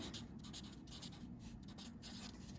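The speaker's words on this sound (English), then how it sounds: "So let me write those words for you." Pen scratching words onto paper in a quick run of short strokes with brief pauses between them, close and fairly quiet, with no talking.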